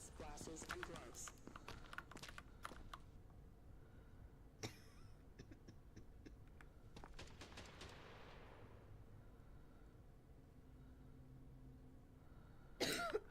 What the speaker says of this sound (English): I think she's just got a cough.